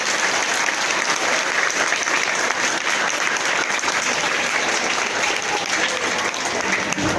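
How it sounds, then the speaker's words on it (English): Sustained applause from an audience at a school event, clapping for the teachers and students of Javid Mission High School, a dense steady patter from start to finish with no voices over it. "Please clap for all the teachers and all the students."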